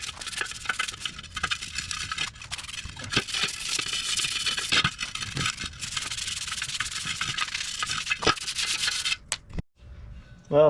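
A trailer being scrubbed clean with a brush, a steady, close abrasive rubbing that runs for about nine seconds with brief pauses, then stops abruptly, leaving faint thuds.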